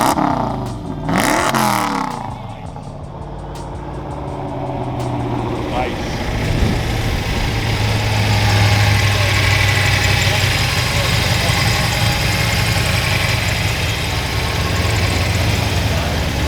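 A turbocharged Ford Foxbody Mustang engine idles close by with a lumpy, rumbling drone that swells slightly as it runs, while someone talks briefly at the start.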